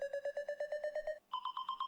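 A beep-like electronic riser in an FL Studio progressive house build-up: rapid repeating bright tonal beeps, about eight per second, jumping up in pitch after a short gap, clear and alone.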